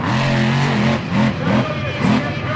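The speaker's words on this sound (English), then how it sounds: "It's just a mean-looking monster truck." Samson monster truck engine revving in loud surges at a speedway during the South Pacific World Finals, heard under a commentator's voice.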